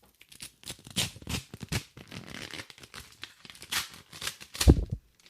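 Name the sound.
opening an IRA statement envelope from the mail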